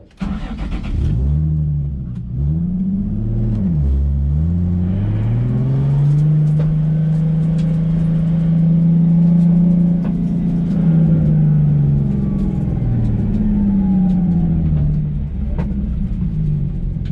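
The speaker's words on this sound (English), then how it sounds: "it's just a clutch, turn, e-brake, and then when you get back on the gas, try and maintain that distance around your initiation point" A car drifts around a barrel at a drift school, starting with a clutch kick and e-brake. The engine is close and loud, revving up and holding a long rising drone, then easing off.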